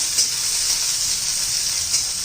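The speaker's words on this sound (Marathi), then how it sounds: "आता आपलं तूप गरम झालेलं आहे मिरची घालायची" Green chillies sizzle in hot ghee for a vegetarian fasting okra dish, giving a steady close frying hiss with small crackling bursts and no voices.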